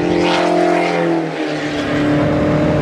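A Spec Racer Ford race car with an engine of just over 100 horsepower runs on a racetrack, its steady, loud, buzzing engine note droning continuously and dipping only slightly midway.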